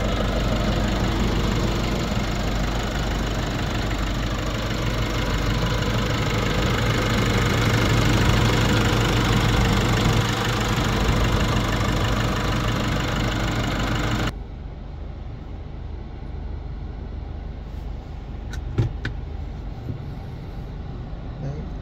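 A Nissan Navara VL 4x4 automatic pickup's engine idles steadily after starting, a constant near rumble that drops to a quieter, softer idle partway through with a few faint clicks.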